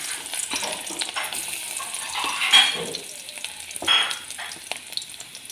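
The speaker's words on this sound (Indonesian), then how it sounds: "Sekarang kita menumis. Panaskan minyak. Masukkan bawang putih." Garlic sizzles and fries in hot oil for an Indonesian stir-fry of shrimp with green chili, a steady crackling hiss with occasional utensil scrapes and stirring sounds close by.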